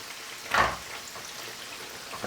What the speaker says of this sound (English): keep frying them like this, make them have a little space